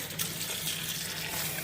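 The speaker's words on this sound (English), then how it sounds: "the trick from it sticking is to add hot water to it." Hot water runs from a kitchen tap onto freshly strained pasta in a strainer, a close, continuous splashing rush with no talk.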